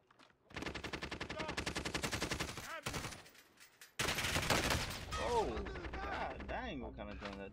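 Video game gunfire rattles in rapid automatic bursts, loud and close, with a brief lull before another dense volley, while players talk over the shooting.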